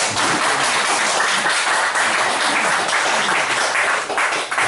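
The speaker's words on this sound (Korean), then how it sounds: "이제 나오실 때 박수로 여러분 맞아주시면 됩니다." Sustained audience applause welcoming a speaker at a church gathering, a dense steady wash of many hands clapping that fills the whole stretch without pause.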